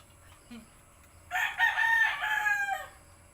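A rooster crows once, loud and fairly close, a drawn-out call lasting over a second against a quiet background.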